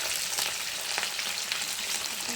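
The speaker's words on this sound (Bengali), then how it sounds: "মাছটা আমি একদম কড়ার মধ্যে দিয়ে দিয়েছি" A large fish fries in plenty of mustard oil in a wok, giving a dense, continuous close-up sizzle with small crackles and faint shifting, no voices.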